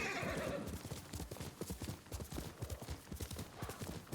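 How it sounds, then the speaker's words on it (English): Horse hooves clip-clop in a quick, steady rhythm, with a whinny at the start, close and clear, from a horse in the video game Ghost of Tsushima. "You're a good horse."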